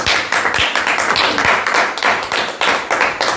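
A church congregation claps together in quick, irregular bursts, a lively, close spatter of hands with no one speaking over it.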